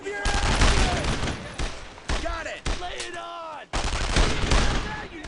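Rapid bursts of gunfire in Brothers in Arms: Road to Hill 30 with the WarZone mod crackle almost continuously, with a few short breaks and some faint talk mixed underneath.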